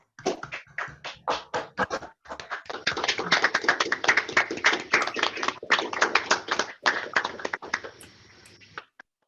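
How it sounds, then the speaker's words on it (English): Online participants on a demo day call clap together in a round of applause, many uneven, overlapping claps that build into a dense burst before thinning out and stopping. "We can all unmute and then give a, round of applause for all of us"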